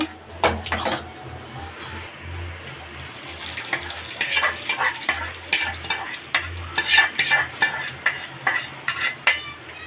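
Fried tempering with curry leaves is stirred into a cabbage chutney, a metal spoon scraping and clinking in the vessel in irregular close bursts over a faint sizzle, louder toward the end, with no speech.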